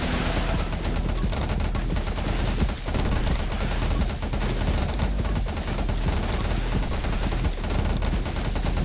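Grenade launcher fire in the 20 Minutes Till Dawn video game, a dense continuous stream of rapid shots and blasts layered over steady game music, constant and loud throughout.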